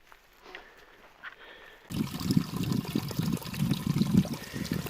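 Trickling water at a stream along the Ouachita Trail starts abruptly partway through, a steady close babbling flow that replaces near silence and runs loud and continuous to the end.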